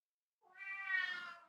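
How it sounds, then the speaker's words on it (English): A single drawn-out meow from a cat indoors, rising and falling over about a second, clear and alone against a quiet background. "And now the cat comes and wants to join in."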